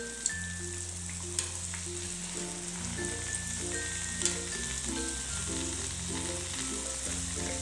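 Toor bean kachoris fry in hot oil after being flipped, a steady close sizzle with continuous crackling bubbles and a few sharp pops, over a low background hum and with no talking.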